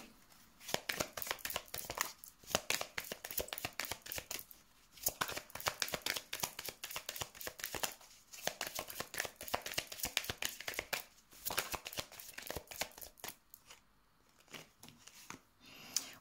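Tarot cards shuffled by hand in a steady run of quick, crisp riffling flicks, close and fairly quiet, with brief pauses and no talking.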